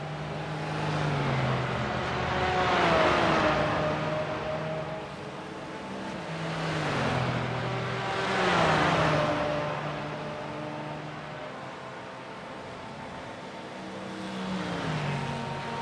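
Race cars at Road Atlanta, including a red and white Porsche with yellow wheels, roar past in waves, their engines rising and falling in pitch as each passes by.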